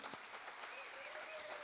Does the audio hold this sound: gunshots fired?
no